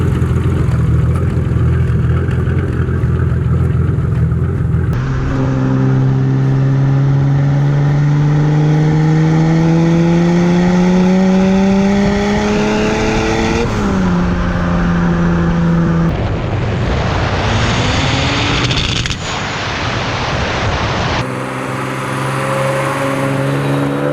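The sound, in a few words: BMW E30 M20 2.9 turbo stroker engine revving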